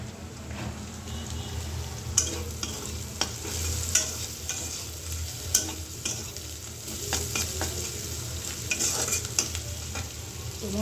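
Flat beans stirred in a hot pan, a continuous close sizzle broken by repeated sharp spatula scrapes and clicks at an uneven pace.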